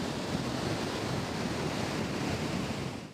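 Sea waves roll in along a windy beach, a continuous loud wash of surf blending with wind buffeting the microphone. The sound holds steady and then eases slightly at the end.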